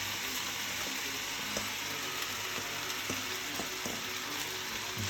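Egg fried rice with bacon sizzles hard in a wok, a dense steady frying hiss with occasional scraping clicks from fast stirring.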